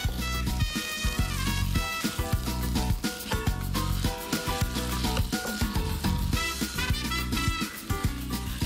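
Meat browns in a hot pan, a dense, continuous sizzle and crackle with popping bursts throughout and no voices.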